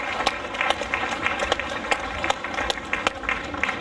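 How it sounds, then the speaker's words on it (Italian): Applause from an audience at a crafts-and-trades event, dense continuous clapping filling the room at close range, with individual sharp claps standing out through the steady patter. "E giusto applauso."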